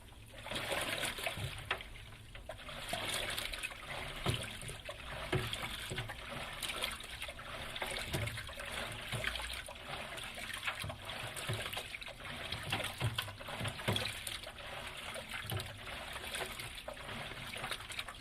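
A Speed Queen TR5003WN top-load washing machine sloshes water through a test run on a low fill, a continuous trickling, splashing churn with a steady rhythm and no talking.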